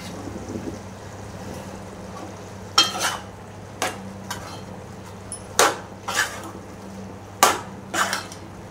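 Ginger garlic paste frying in a pan as it is stirred, with a soft steady sizzle broken by sharp scraping clinks of the spoon against the pan that arrive in irregular clusters.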